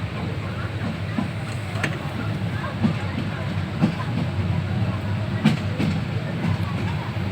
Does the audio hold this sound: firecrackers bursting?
no